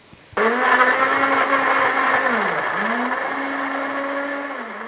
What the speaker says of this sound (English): I'm moving over to blend the tomatoes